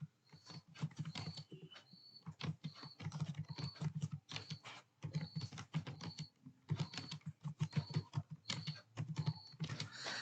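Quiet keystrokes on a computer keyboard come in irregular bursts with short pauses between them, soft and close, with no talking.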